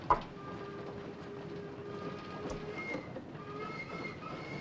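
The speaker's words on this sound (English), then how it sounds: "Why is the train going so slow?" A steam-era train runs along a single track in a western film, giving a continuous rumbling rattle with faint squealing wheel tones and a clank at the start, with no speech over it.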